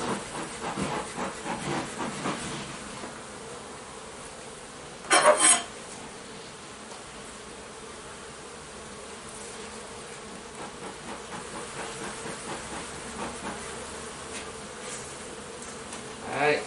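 Honeybees hum steadily around an opened hive as honey supers are readied, a soft continuous buzz close by, broken by a brief louder rustle midway.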